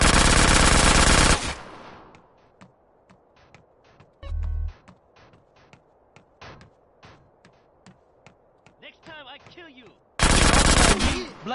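Bursts of gunfire in the video game GTA San Andreas: a loud automatic volley at the start, a string of sharp single shots through the middle, and another heavy burst at the end.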